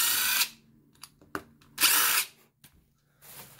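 A power screwdriver backs screws out of a DeWalt 7-1/4 inch worm drive framing saw during a teardown. There are two loud, close, high whirring bursts with clicks and small handling knocks between them, followed by the start of a third burst.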